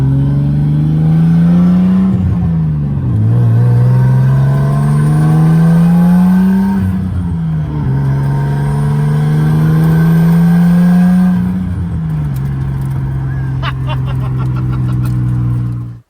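A turbocharged car engine revs loudly and repeatedly, pitch climbing and dropping in long sweeps, ending with a burst of crackling pops as it settles.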